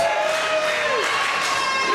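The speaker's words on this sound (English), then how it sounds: "The crowd chanting, you deserve it" A wrestling event crowd chants and cheers in a loud, steady roar that fills the whole two seconds, with no pause or break.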